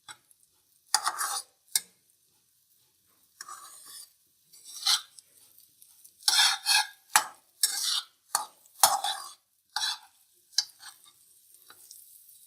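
Almonds for badam halwa are roasted on a low flame while being stirred, making irregular bursts of dry scraping and rattling against the pan, separated by near-silent pauses, close and fairly crisp, with no talking.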